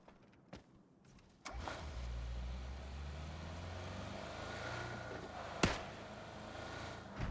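A car driving in the PUBG video game, its engine starting up after a short click and then holding a steady droning hum with a brief thump midway, without talk.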